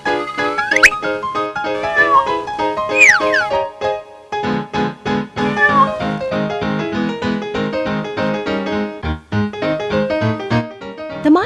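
A cartoon-style cat gives bright, sliding meows in a short story for kids, set over a bouncy, plucky musical backing with repeated notes, loud and clear throughout.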